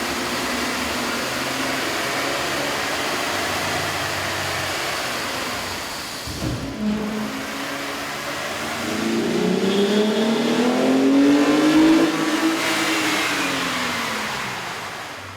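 Car with an aftermarket air intake revving on a dyno, a steady loud engine roar that dips briefly, then climbs in rising and falling revs before easing off near the end.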